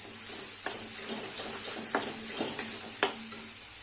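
A ladleful of oil sizzles in a pan at the start of an egg masala, a quiet steady frying hiss punctuated by light rhythmic clicks and taps of a utensil, near and without voices.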